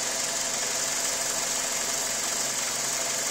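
A 2000 Ford Focus engine idles with a vibration fault, just after its mass airflow sensor was cleaned, giving a steady, even hum and rumble that runs unbroken and fairly loud throughout.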